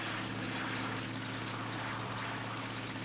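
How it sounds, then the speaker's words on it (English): Propeller aeroplanes flying over in the 1941 film Tarzan's Secret Treasure, a steady, loud droning engine hum holding evenly throughout, with no talking. "Look, boy, aeroplanes."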